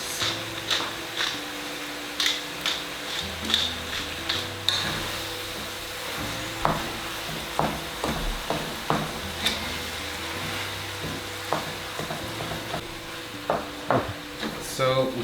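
Meat browning in a pan with salt and pepper for macarona bechamel, stirred with steady scraping and clacking strokes over a low sizzle, close and moderately loud.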